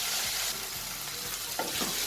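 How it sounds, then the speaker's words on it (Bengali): Chopped onion and green chili sizzle in hot oil over a high flame for Bengali egg tarka, a steady close crackle with soft stirring scrapes of a spoon against the pan. "এটা আমি 3 মিনিট ভালো করে তেলে নাড়াচাড়া করে নিয়েছি"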